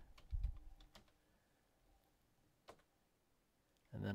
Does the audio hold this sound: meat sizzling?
no